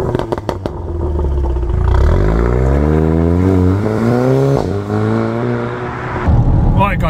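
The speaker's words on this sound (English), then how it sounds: "That's the noise I'm getting, and we checked wheel bearings and all sorts of stuff, but it's still there, and I reckon it's the brake discs." Inside a Mark III Audi TT with worn brake discs and nearly gone pads, a droning, tonal whir rises and falls with road speed over the steady rumble of the car.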